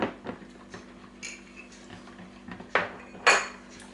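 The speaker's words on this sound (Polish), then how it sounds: "teraz dolewam płynną żelatynę i mieszam" A spoon clinks and scrapes against a bowl as liquid gelatin is stirred into a no-bake cake mass of cheese, halva, cream, sugar and milk. Light, irregular taps and a couple of sharper knocks sound nearby with no talking.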